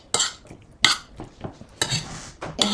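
Salad ingredients tossed with vegetable oil in a bowl, with a utensil clinking and scraping against the dish in several separate bursts of stirring, close and moderately loud, with no talking.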